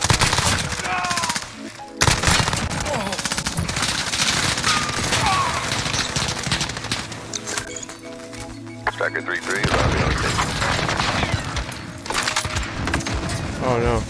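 Rapid MP5 submachine gun fire in a first-person shooter game, bursts of shots crackling over game effects and explosions while players talk throughout.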